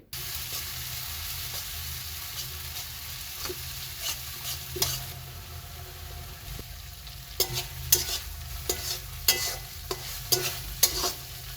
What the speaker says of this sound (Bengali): এই তো মশলাগুলোকে আমি তেলের মধ্যে ভালোভাবে সময় নিয়ে কষিয়ে নিচ্ছি